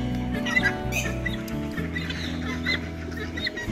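Rooster and hens on a farm cluck in short overlapping bursts, close and steady, over a constant low background hum.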